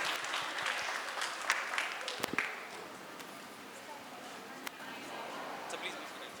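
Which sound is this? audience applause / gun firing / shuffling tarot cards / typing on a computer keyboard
audience applause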